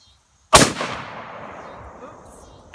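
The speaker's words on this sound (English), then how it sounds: "Shoot that cinder block one more time" A single booming shot from a Smith & Wesson 500 revolver fired outdoors at a cinder block on a farm, loud and close with a long echoing decay trailing off.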